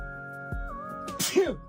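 A single short sneeze from a character in the video game Paralives bursts out near the end after a moment of quiet background tones.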